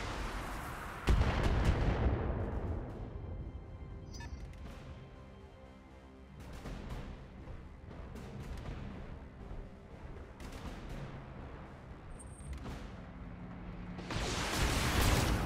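Mech weapons fire in the BattleTech video game: heavy booming impacts and blasts, with lasers, missiles and a particle cannon, rumbling loud and dense throughout with bursts at the start and end.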